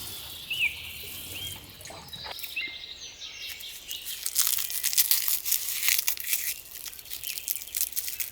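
Freshly planted onions in a raised vegetable bed are watered, a hissing, crackling spray that starts patchy and grows steadier and louder in the second half, with faint birdsong and no talking.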